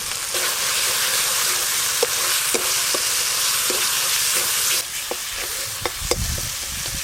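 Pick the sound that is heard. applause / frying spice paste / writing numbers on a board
frying spice paste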